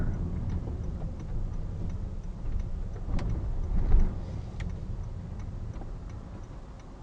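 A car's left turn indicator ticks in a steady regular rhythm inside the cabin while waiting at a junction, crisp repeated clicks over a low idling engine hum, with no talking.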